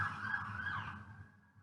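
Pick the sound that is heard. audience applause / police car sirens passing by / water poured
police car sirens passing by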